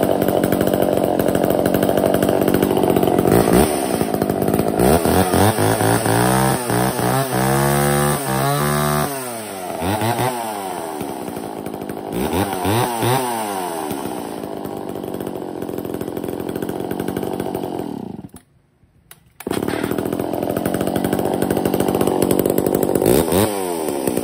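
A Japanese domestic-market chainsaw, around 61cc, cutting firewood: a loud, steady two-stroke engine whine that rises and falls in pitch as it bites into the wood, briefly cutting out near the end before running again.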